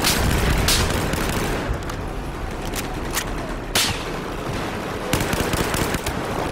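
Video game gunfire in Metro, with sharp shots and bursts cracking out at irregular intervals over a continuous rumbling background of battle noise.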